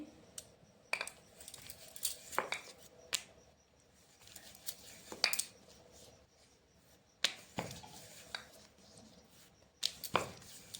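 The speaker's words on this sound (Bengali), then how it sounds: "এখন আমি লুচিগুলো বেলে নেব।" Luchi dough being rolled thin with a rolling pin on a board with a little white oil gives quiet, intermittent sharp knocks and clacks in an otherwise hushed room, with no talking.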